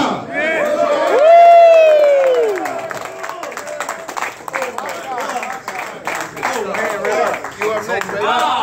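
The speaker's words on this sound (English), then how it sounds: "clap your hands and applaud" An audience at a worship summit claps and cheers, a sustained crowd swell with scattered whoops, mixed with a loud voice and speech throughout.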